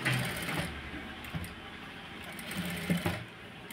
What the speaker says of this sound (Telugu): ఇలా ఎడ్జ్కి కుట్టు అనేది వేసుకోవాలి.